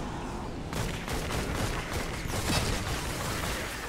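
Gunfire from the video game Fortnite, a dense, continuous barrage of overlapping shots and bursts, loud and close, with no voices over it.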